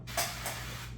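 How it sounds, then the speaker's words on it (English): Two short hissing bursts of duck fat spray onto chicken wings, close and fairly soft, over a low steady hum. "We're gonna go ahead and spray these down."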